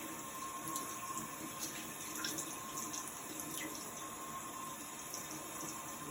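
A running tap rinses soap off hands at a sink, a steady, fairly quiet stream of water with no talking.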